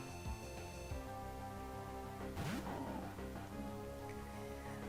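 Steady synthetic rain hiss with light droplet patter in Pokemon Pearl, layered under game music tones and a brief whooshing effect midway.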